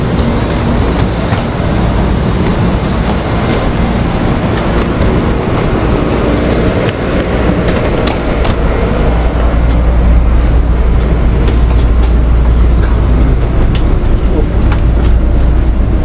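The interior of a Taipei metro Purple Line train in motion carries a loud, continuous rumble with a low drone and faint rhythmic rail clicks throughout, and no voices rise above it.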